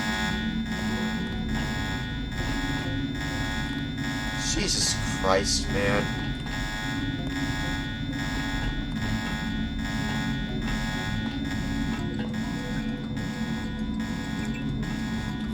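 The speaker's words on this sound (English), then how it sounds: "Who sounded the alarm?" A loud, steady, pulsing buzzer alarm sounds continuously in the video game Deus Ex: The Nameless Mod, with someone briefly talking over it.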